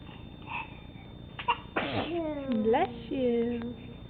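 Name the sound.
child sneezing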